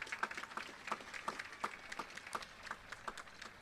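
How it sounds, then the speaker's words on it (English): Faint, scattered clapping from a high school graduation audience, with sparse individual claps spread across a large hall, heard from a distance. "Please give them another round of applause."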